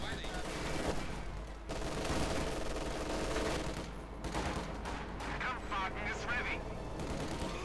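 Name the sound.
machine gun fire in video game Company of Heroes 2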